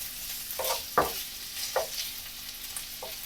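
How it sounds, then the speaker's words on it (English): Cumberland sausages frying in a pan with cabbage, a steady soft sizzle broken by several short scraping stirs as they are turned, with no voices. "Just trying to make sure all the sausages are sealed, both sides."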